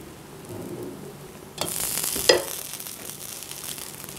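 Dosa batter cooking on a hot pan with oil, a soft low crackle that swells into a brighter, louder sizzle partway through, with a sharp spit shortly after, then settling back into a steady fry.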